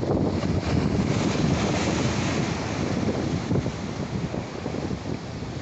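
Ocean waves wash onto the shore at Antofagasta during light-tackle fishing, a steady loud roar of surf mixed with heavy wind buffeting the microphone, with no voices heard.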